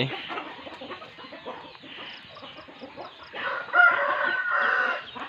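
Chickens cluck and a rooster crows on a Thai farm, with repeated clucking calls close by and a louder crow rising near the end, no talk over it.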